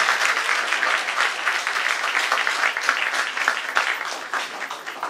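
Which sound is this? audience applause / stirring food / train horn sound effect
audience applause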